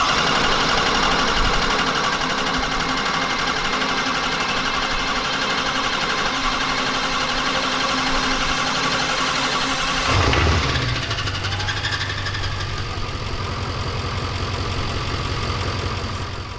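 A diesel-swapped Nissan GT-R engine runs in a steady, loud idle, then its tone drops and settles into a lower, smoother idle partway through. No one speaks.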